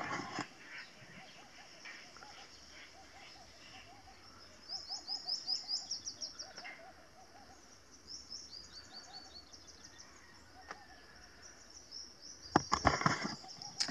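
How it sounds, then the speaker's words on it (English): Outdoor birdsong in the Sharqiya Wahiba Sands, Oman, with bursts of chirping and trills, moderately distant, over a soft natural background, with a louder rustle near the end. "I don't know if you can pick it up on the camera, but all I can hear is birds"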